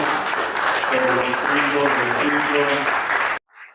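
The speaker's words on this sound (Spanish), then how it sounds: "le daremos un fuerte aplauso al vivir reino" A church congregation at Templo Los Redimidos gives a loud burst of clapping, mixed with cheering voices. The applause stays strong for a few seconds, then stops suddenly.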